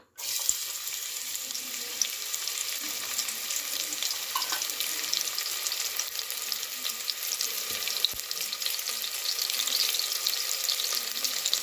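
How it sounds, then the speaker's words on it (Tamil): Chopped onions frying in hot oil inside a pressure cooker, a steady, close, broadband sizzle with a hissy, watery texture holding continuously throughout, with no talking. "இப்போ எண்ணெய் நல்லா சூடாயிடுச்சு. வெங்காயம் போட்டுக்கலாம்."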